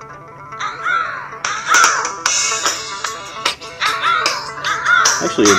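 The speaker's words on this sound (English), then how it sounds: "pretty impressive audio coming out of the phone right now" A song plays through the small speaker of a Casio G'zOne Ravine phone, a bright, thin-sounding vocal melody with instrumental backing that carries on throughout without talk.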